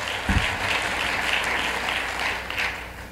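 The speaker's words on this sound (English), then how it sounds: "Give another round of applause for Melissa. Harris Perry." At a political conference, an audience keeps up an even wash of steady applause for a speaker throughout, with one brief low thump near the start.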